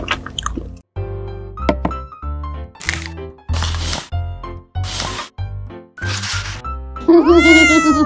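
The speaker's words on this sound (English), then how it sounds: "Our bad cat!" A cat meows loudly and close by, with a rising, wavering call at the end that follows a series of short clicks and squishy taps.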